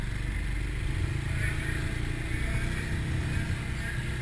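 A Bristol BR 250 motorcycle in first gear hums along with a steady low engine drone and wind rumble while ridden, the engine close and even throughout.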